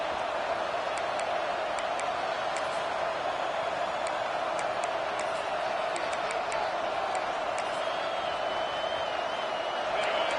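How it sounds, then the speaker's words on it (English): A football stadium crowd at Georgia vs Clemson roars in a steady, dense wall of noise throughout, with scattered whoops and whistles rising above the continuous cheering. "This crowd, full throat, splitting the eardrums"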